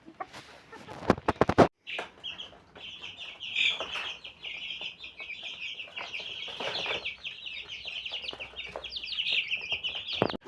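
Two-month-old Jersey Giant chicks peep and chirp continuously at close range after a short burst of handling noise at the start, their high calls overlapping with faint clucks.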